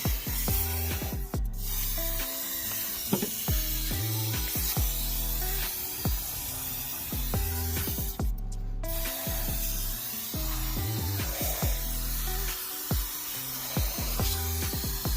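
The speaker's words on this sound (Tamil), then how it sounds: "இந்த பிட்டர் ரேட் ஸ்ப்ரே வந்து பார்த்திங்கன்னா நான் இன்ஜின் மேலே அடிக்கிறேன், இந்த கேபிள்ஸ் மேலே அடிக்கிறேன்." A can of bitter rat repellent spray hisses in long, close bursts over a car's engine and cables, broken by two short pauses.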